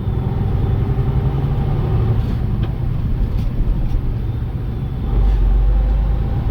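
Kenworth semi truck with a 13-speed transmission, its engine droning steadily in the cab during gear changes, with a brief dip and then a louder low rumble as the engine pulls again near the end.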